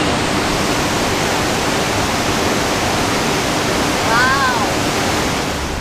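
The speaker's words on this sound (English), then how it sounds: "It looks like it takes the river and it has these turn screws thing that pull the water back up to irrigate." River water rushes through irrigation screws in a steady loud roar that fills the whole stretch, with a faint brief voice-like tone partway through.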